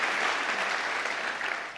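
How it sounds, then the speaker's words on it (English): An audience at a government panel event in Olympia applauds the panel, a dense, steady wash of clapping from many hands that carries evenly for the whole stretch without letting up. "Give a round of applause to our panel."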